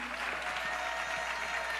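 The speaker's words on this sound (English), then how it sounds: "Round of applause to you." Brief, even applause from a church congregation at a morning prayer service, a dense wash of many hands clapping at a moderate distance.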